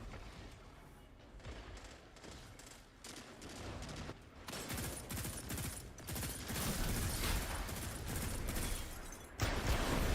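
Gunfire from a player-versus-player video game match: rapid bursts and booming shots pile up in a dense, loud barrage that grows heavier toward the end.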